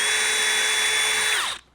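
Cordless drill with a 5/64 bit spinning into drywall, a single steady high whine for over a second that winds down abruptly, close and loud with no talk.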